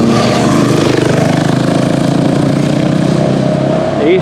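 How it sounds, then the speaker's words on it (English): Several motorbikes drone loudly past on an Easter Sunday country road near farmhouse cottages, a continuous engine roar that swells and fades, with a voice faintly under it. "Easter Sunday, the motorbike boys are about."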